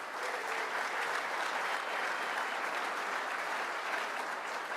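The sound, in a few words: round of applause for award winners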